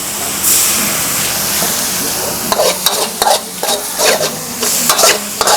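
Chicken basil and Mama instant noodles stir-fry in a hot pan: a loud, steady sizzle runs throughout, and rhythmic scraping strokes of stirring join in during the second half.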